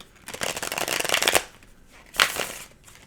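Tarot cards are shuffled in two quick riffling bursts, a longer one then a shorter one, close up with a quiet pause between.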